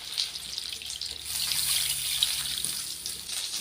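Water poured into a pan of sweet and sour sauce with vinegar and ginger makes a soft, continuous splashing trickle, close and moderately quiet, with no voices.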